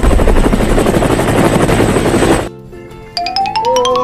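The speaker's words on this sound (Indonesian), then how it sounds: "Iya, itu helikopter." A toy helicopter plays a loud whirring helicopter sound steadily, then it cuts off abruptly and gives way to bright electronic chimes and beeps.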